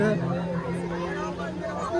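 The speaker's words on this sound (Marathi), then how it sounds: "इथं गर्दी चालू आहे सगळी." Crowd chatter at a dinner gathering with food being served at counters, a steady babble of many overlapping voices, one nearer voice speaking over the hum.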